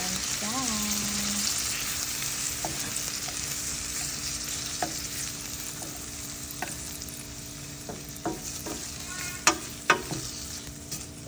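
Butter garlic shrimp, marinated in Sprite, frying in a pan, with a steady soft sizzle and a few sharp clinks of a utensil against the pan toward the end.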